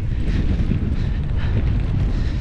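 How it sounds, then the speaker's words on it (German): Strong wind roars into the microphone while e-biking uphill through dunes near Amsterdam against a headwind, a loud, continuous buffeting rumble with no talking. "Zweitens kommt der Wind jetzt ein bisschen von vorne."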